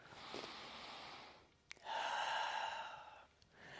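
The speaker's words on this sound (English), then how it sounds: "One more breath." Slow, deep breaths during a standing hatha yoga spine sequence, a long exhale followed by a fuller inhale and the start of another, close and alone with no talking.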